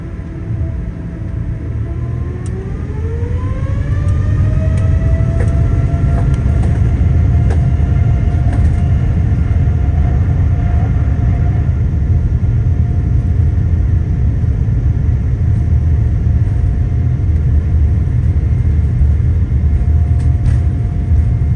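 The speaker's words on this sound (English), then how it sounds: "The spool up, takeoff, and airport stats are coming up next." An Oman Air Boeing 787-9 spools up for takeoff: a whining tone climbs over a few seconds, then a loud, steady engine roar and rumble holds for the rest of the run, with no talking.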